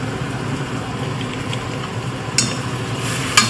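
Paneer pulao masala with chili powder being stirred in a pan, a steady sizzling hiss with occasional scraping clinks of the spoon, close and moderately loud.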